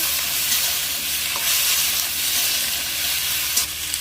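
Okra and pumpkin frying in hot oil in a kadai with five-spice, a dense continuous sizzle with occasional stirring scrapes, close up and steady throughout.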